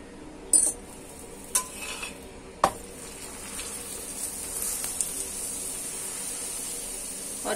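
Aloo paratha cooks on an oiled tawa over low heat, giving a soft, steady sizzle punctuated early by a few sharp metallic clinks of a utensil against the pan.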